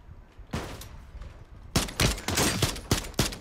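Rapid bursts of gunfire in the video game Warzone, a few scattered shots early then a dense, loud volley of repeated sharp cracks in the second half.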